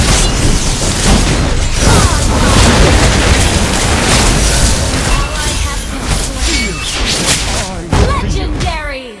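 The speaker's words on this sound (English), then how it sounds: "Your team destroyed a turret." A turret is destroyed in the mobile game Mobile Legends, with loud dense blasts, booms and clashing effects filling the scene while a voice speaks over the noise.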